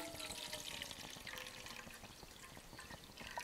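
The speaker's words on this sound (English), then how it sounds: "Now we'll add the rest of our water." Water pours into a pot on a Trangia camp stove with a Bushcraft Essentials stand, giving a faint, continuous splashing and trickling sound, close and alone.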